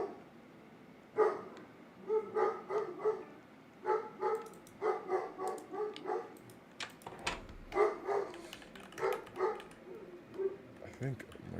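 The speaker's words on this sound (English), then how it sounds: "that's why my dog is losing his mind right now" An indoor dog barks in repeated bursts of several sharp woofs, moderately near, with brief pauses between volleys and quiet room sound around them.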